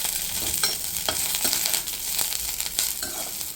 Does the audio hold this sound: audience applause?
no